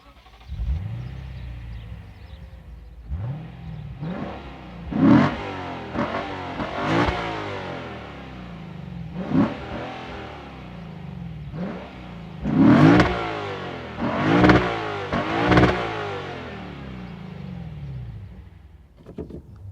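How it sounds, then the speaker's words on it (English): A Lexus RC F sports car engine revs repeatedly, rising and falling in several loud bursts with a throaty exhaust note, heard close up without talk. "I promise we will take a listen to the sound of this exhaust."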